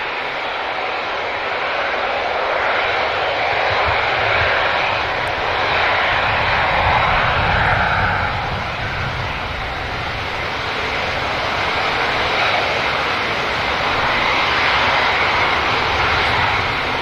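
Aircraft engines rumble steadily at Manchester Airport, a broad continuous roar with slow swells in loudness, heard at a distance across the airfield with no talking.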